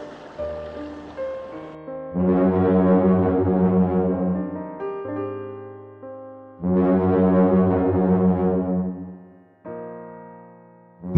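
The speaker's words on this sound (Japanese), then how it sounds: "港から鹿児島行き最終便の汽笛が鳴り始めた" A deep ship's horn of the last ferry to Kagoshima sounds at a Yakushima port in two long, loud blasts, with softer sustained tones drifting between them.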